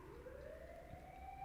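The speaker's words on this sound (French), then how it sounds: "une ambulance." A distant ambulance siren sustains a rising wailing tone, faint and brief over a low background rumble.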